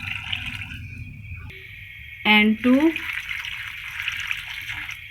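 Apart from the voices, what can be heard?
water being poured into pan of raw mango slices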